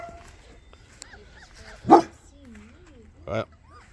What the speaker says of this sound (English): No barking at the neighbors.